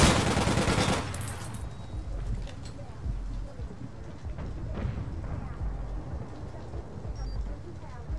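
Rapid bursts of gunfire in the online shooter APB Reloaded, one dense volley at the start and then scattered shots, with people talking throughout.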